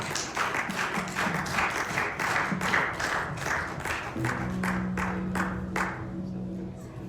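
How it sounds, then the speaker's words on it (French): A church audience applauds a preacher being welcomed, a lively spread of many hands clapping with some louder individual claps, while sustained tones come in under the applause partway through, likely music, as it begins to thin toward the end. "Sous vos applaudissements, s'il vous plaît."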